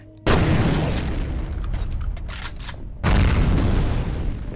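Two loud explosions in the video game F.E.A.R., one near the start and another about three seconds later, with sustained rumbling and crackling blasts in between.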